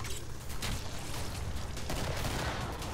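Rapid gunfire from the Killing Floor video game, a continuous dense volley of shots crackling without pause at moderate volume.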